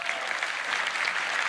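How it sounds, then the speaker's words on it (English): Audience applause at a Roblox developer keynote, a dense, steady wash of clapping from a large crowd sustained throughout without breaks. "Let's give them a round of applause."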